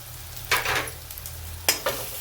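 A faint background sizzle with two bursts of scraping and stirring in a pan as a spice mix of turmeric, coriander powder and salt is sautéed, quiet and close.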